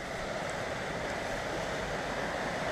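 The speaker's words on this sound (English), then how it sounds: "and here we have the weir" Water pours over a weir on Bradshaw Brook in a steady, broadband rush that continues without a break, close and fairly loud; nobody speaks.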